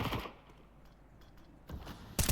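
A few sharp gunshots in a video game, one burst at the start and another pair near the end with a quiet stretch between, punchy and close.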